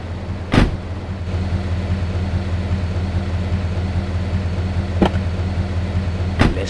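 A car drives in GTA III, its engine a steady, low hum with no talk, broken by three sharp bumps or knocks near the start and end.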